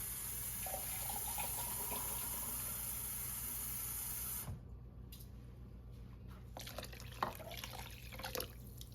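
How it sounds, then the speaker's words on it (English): Water runs from a kitchen tap into emptied chili bean cans, a steady splashing hiss that cuts off partway, leaving soft drips and light clinks. "I'm going to rinse my chili bean cans out."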